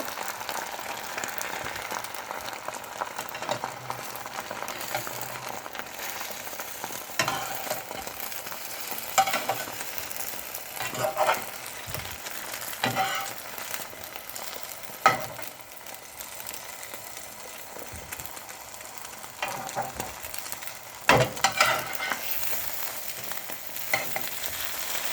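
Sausage frying in a pan for a breakfast sandwich, giving a steady hiss and sizzle throughout with scattered scraping and clicking of a utensil, and no talking.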